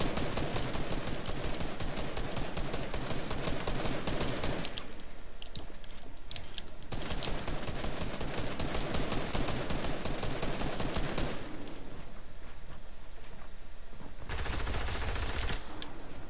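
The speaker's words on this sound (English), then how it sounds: "How are they shooting me?" Rapid bursts of gunfire from the video game Fortnite on PS4/PS5 crackle in dense volleys, broken by two short lulls and ending in a harsh, loud burst.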